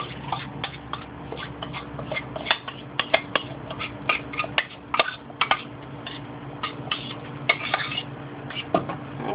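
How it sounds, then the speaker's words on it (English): Cornmeal being stirred into boiling water in a pot for Jamaican turn cornmeal, with an irregular run of close clinks and scrapes of the utensil against the pot and soft bubbling underneath. "So you just add and stir simultaneously."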